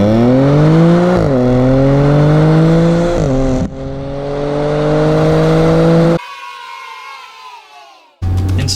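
A tuned Stage 2 APR 2011 B8 Audi S4 launches hard from 0 to 60, its engine note climbing loud and close through rising gears with brief shift dips, then cutting out abruptly.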